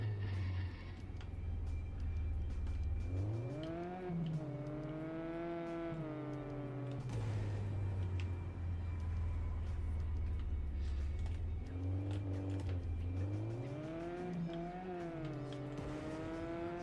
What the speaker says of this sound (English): Such a cool little RC car.